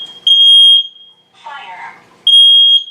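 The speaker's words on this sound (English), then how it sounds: "So, push test button, and we know that it chirps so it has battery." Two loud, piercing beeps from a combined smoke and carbon monoxide alarm sound up close during a test-button check, separated by a short burst of a voice speaking between them.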